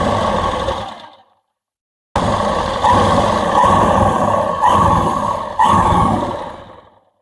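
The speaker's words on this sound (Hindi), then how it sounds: "किनारे तक हम अपने अस्तर को रखते हुए इसकी सिलाई करेंगे" A sewing machine runs close up stitching the lining of palazzo pants, a dense whirring motor drone in long bursts separated by a short pause, with small rises in pace.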